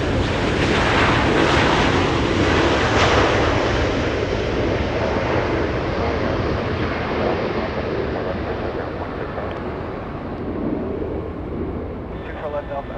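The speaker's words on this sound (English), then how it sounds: "Delta 1057 flying in from JFK A767" Delta Boeing 767 airliner arriving from JFK at Los Angeles International Airport, a loud sustained jet engine roar with wind rumble that slowly fades across the stretch.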